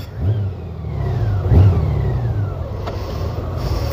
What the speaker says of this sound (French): le bruit du 6 cylindres, c'est magnifique